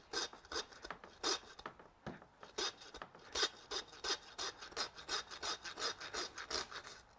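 Knife working down along the bone of a wagyu T-bone during butchery, giving a dense run of rhythmic rasping, scraping strokes, close and fairly loud with no talk.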